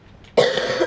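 A single loud, harsh cough bursts in after a brief quiet moment and carries on as a rough, sustained hack to the end, heard alone with no talking.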